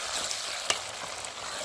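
Masala frying in a pan for a fish curry: a steady soft sizzle and crackle with one small sharp pop, fairly quiet and close, with no voices.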